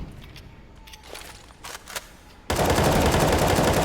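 A sustained spray of automatic rifle fire in CS:GO breaks out halfway through, loud and dense, after a quieter stretch of scattered game sounds.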